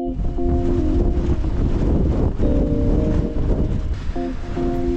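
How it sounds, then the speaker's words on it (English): Steady, loud wind roars and rumbles outdoors through an old windmill overhead, with a continuous low buffeting and a faint tonal hum running through it. "as you can hear the wind"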